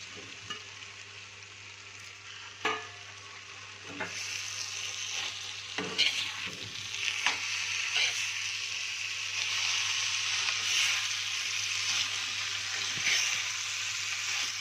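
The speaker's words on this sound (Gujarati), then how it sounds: "બધી ભાજી આપણે આની અંદર એડ કરી અને હલાવી લઈશું." Radish greens sizzle and fry in a pan for a Gujarati home-style dish, with spoon stirs scraping and clattering at intervals over a steady close hiss.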